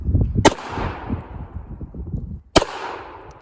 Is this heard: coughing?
no